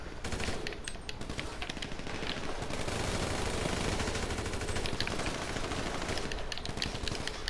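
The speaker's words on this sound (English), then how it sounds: "I'm gonna try and use his SMG." Rapid SMG fire in Grand Theft Auto V, long sustained bursts of dense rattling shots, loud and continuous with only brief breaks.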